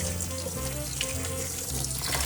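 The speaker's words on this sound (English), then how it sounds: "Are you rinsing with cold water?" Cold tap water runs steadily into a kitchen sink while lotus roots are rinsed, a continuous close splashing hiss with no talk.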